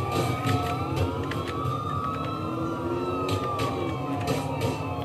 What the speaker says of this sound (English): I don't have to turn off the siren.